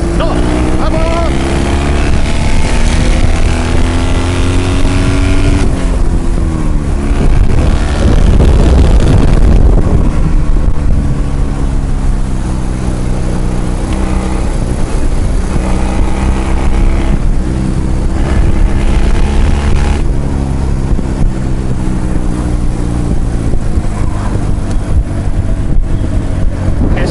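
A 65-year-old BMW R68 motorcycle runs at full throttle on the road, its engine droning loud and close with rising and falling revs as it accelerates, heavy wind rush over the top and a rider speaking briefly.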